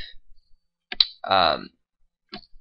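A few isolated clicks sound from a computer keyboard as text is typed. Brief quiet gaps and a short voiced sound separate them.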